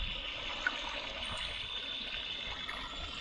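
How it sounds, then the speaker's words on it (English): Running water from a campsite drinking water tap pours steadily as rice is washed beneath it, a continuous close splashing rush with no voices. "washing my rice."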